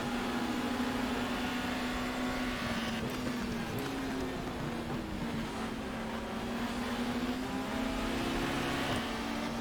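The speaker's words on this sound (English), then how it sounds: "A drag race between myself and Matt Neal." Racing car engines drone steadily side by side at high revs in a drag down the straight at Brands Hatch Indy in GTR 2, featuring 1994 British Touring Cars; the pitch rises and dips slightly, continuous and unbroken.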